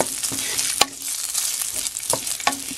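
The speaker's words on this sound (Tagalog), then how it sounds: "Fry natin ng konti." Pork frying in a cooking pan as its added water cooks off and a little oil renders out, a steady close sizzle broken by several sharp scrapes and stirs of a utensil against the pan.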